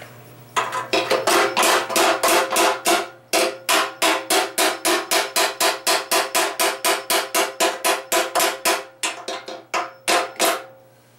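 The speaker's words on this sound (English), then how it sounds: "I've been taking my hammer" Rapid, evenly spaced hammer blows ring out against a bent metal oil pan, about thirty sharp clanging strikes with one brief pause, loud and close.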